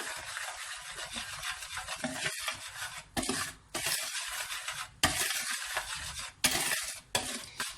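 A kadayif dough mixture with a pinch of salt being stirred in a bowl, a brisk rhythmic scraping and swishing in several bursts separated by short pauses, close and clear with no talk.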